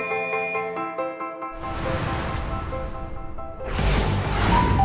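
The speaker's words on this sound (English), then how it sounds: "When set time is over, as you can see, the alarm sounds and the heating process is stopped." A DAIHAN laboratory oven's timer alarm rings as the timed heating ends, heard as a steady electronic tone that gives way to a broad whooshing noise. The noise swells again near the end, loud and close.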